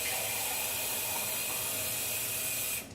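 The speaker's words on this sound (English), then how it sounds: "I'm going to add some water." Water pours steadily from a can into a pot of cannellini beans and turkey sausage, a continuous broad hissing rush close by that cuts off near the end.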